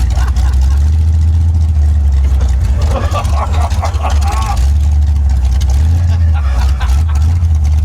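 A diesel car engine running low on fuel, a loud close rumbling drone that holds steady and dips slightly, with people talking over it.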